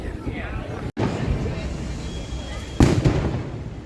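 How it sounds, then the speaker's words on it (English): Fireworks boom in the distance during the Disneyland 70th Celebration, muffled rumbling bursts with one louder crack near the end, heard from near a parked car. "The fireworks are going off right now."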